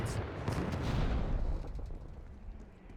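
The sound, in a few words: grenade explosions in video game Call of Duty Black Ops 6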